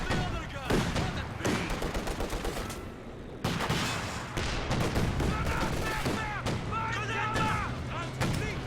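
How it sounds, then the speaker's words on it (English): A 120mm heavy mortar fires amid a Company of Heroes 2 battle, with repeated booming shots and crackling gunfire over a continuous rumble of combat. "Oh, in fact, that's a heavy mortar."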